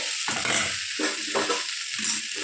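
Paneer fries in a hot pan with loud, crackling sizzle, broken by several bursts of stirring scrapes in an uneven rhythm, close up with no voices.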